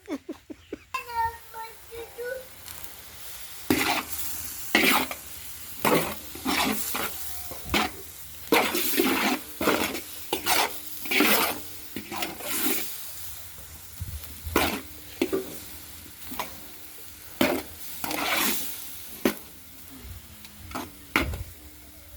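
A spoon stirs Ethiopian tibs, spiced fried meat, in a sizzling pan, with repeated scraping strokes in a loose rhythm over a continuous close fry, and a voice briefly at the start.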